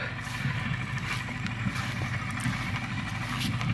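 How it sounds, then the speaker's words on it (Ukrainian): A tractor baling hay chugs steadily at close range with rhythmic mechanical knocking in a field, with no talking. "Так, уже трактор б'є нам тюки."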